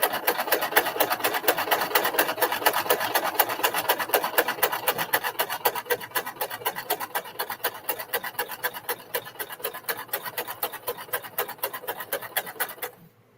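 A sewing machine stitching a quilt seam runs in a fast, even mechanical rattle that holds steady for most of the stretch, then slows slightly and stops at the end; no talking.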